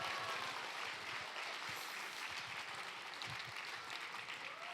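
Spontaneous applause from a local audience at a book concert in Daedeok-gu, Korea, a broad wash of many hands clapping, fairly distant and steady throughout, with no talking over it.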